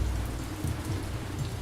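Steady rain falls in a city-building video game set in ancient times, a dense continuous patter with no other sounds.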